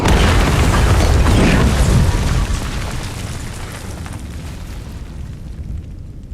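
A massive bomb blast as a sustained, loud roaring rumble that fills the whole range and slowly decays over several seconds, with no voices.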